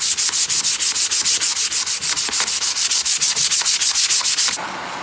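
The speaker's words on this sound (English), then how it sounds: "for this, I just use 100 grit sandpaper" Coarse 100-grit sandpaper rubs back and forth over a wooden goedendag trench club in a brisk, steady series of about thirty close, loud strokes that stop abruptly near the end.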